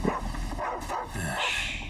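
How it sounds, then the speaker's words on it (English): A few short barks and yips from a dog in Final Fantasy 16, fairly faint amid background game sounds. "Hi, dog."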